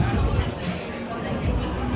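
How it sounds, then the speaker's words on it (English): A busy evening street in Valletta, Malta, filled with a dense murmur of crowd chatter and overlapping voices, steady and close, with a nearer voice speaking over the babble. "Nice atmosphere, busy, maybe a younger crowd than this."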